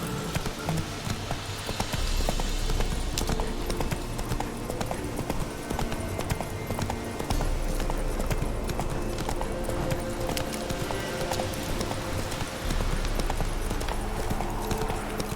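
Horse hooves clip-clop steadily in The Witcher 3, a continuous rhythmic trot over a dense wash of background ambience, with no talking.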